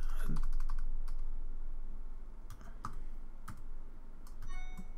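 Someone types on a computer keyboard, with irregular bursts of quick, close clicking keystrokes over a faint steady hum and no talking.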